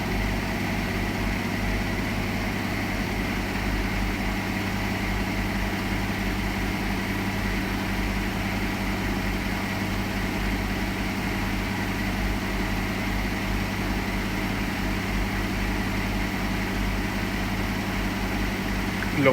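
A Hotpoint HE7L492 washing machine spins at 1000 RPM on a cotton cycle, producing a steady, low motor hum with a constant tonal whine that stays even and unbroken throughout.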